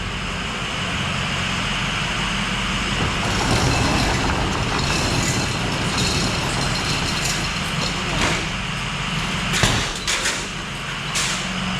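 A 2005 Ford F250 4x4 diesel pickup rumbles as it pulls out of a garage, a steady, fairly loud engine drone with a few clunks and knocks near the end.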